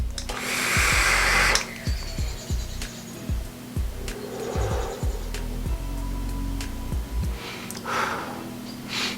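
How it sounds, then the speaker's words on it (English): Steam Crave Ragnar RDTA vaped at 60 watts with the airflow wide open: a long, loud, airy draw rushing through the atomizer, then a few softer hissing pulls over a steady low hum, with no talking. "vaping this one at 60 watts with full airflow and see how this behaves"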